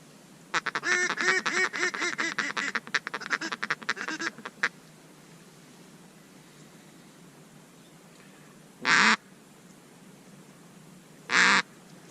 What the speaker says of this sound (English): Those are all ducks that just flew over us, though.